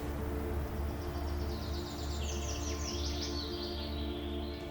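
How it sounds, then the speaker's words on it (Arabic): Small birds chirp and twitter in a remote valley near waterfalls, a brief cluster of high, rapid calls rising over a steady rushing-water roar, moderately distant. "هنا لا وجود لضجيج السيارات وصخب المدن، فقط صوت الشلالات وزقزقة العصافير"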